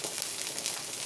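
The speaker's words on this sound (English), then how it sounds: "So I'll lightly cook them in the frying pan with a little bit of cooking salt" Sausages lightly frying in a pan with a little cooking salt give off a steady, close sizzle that stays even and unbroken, with no voices over it.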